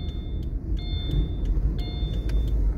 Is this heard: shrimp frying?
no